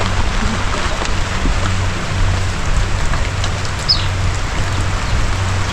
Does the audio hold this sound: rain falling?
yes